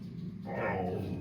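Dogs bark indoors in a short muffled burst, fairly close, over a low steady room hum.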